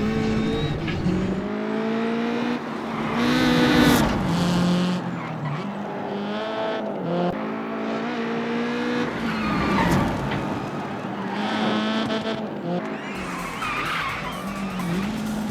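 A front-wheel-drive Lancia Fulvia rally car in Assetto Corsa Rally, its engine revving and shifting steadily while the tyres skid and squeal through corners, loud and close throughout with no talking.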